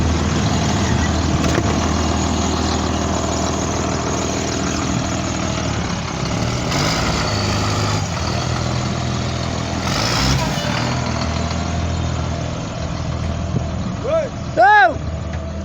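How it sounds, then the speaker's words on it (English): A 2001 Blue Bird All American bus rumbles at low, steady engine speed as it is moved forward and then back. A brief tonal chirp sounds near the end. "we're gonna move the bus forward and we're gonna move it back."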